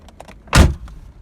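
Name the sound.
1985 Corvette car door opening and closing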